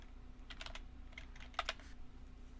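A computer keyboard is typed on to enter a cryptocurrency name into a search box, giving a few faint, quick clusters of clicks over a quiet low hum, with no talk.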